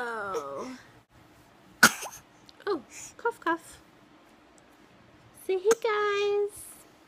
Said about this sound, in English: Oh, cough, cough.